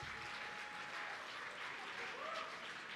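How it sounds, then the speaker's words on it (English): Steady, fairly faint applause from an awards-ceremony audience at a whisky awards night, clapping for the category finalists without pause. "Let's get a round of applause for all our finalists in this category"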